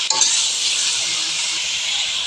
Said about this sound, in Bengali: এখন পানি অ্যাড না করে এটা কষিয়ে নেব ভাজা ভাজা করে